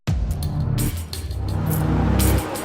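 Formula 1 cars roar past on the Melbourne Grand Prix circuit at the 2017 Australian Grand Prix, a loud, close, high-pitched engine scream that surges and shifts as cars accelerate by.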